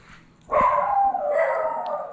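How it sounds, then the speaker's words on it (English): Dogs bark excitedly in a kitchen during a lobster catch-and-cook, a burst of close, loud barking and yipping that starts suddenly and carries on in overlapping calls to the end. "Don't mind the dogs, they're excited to see somebody."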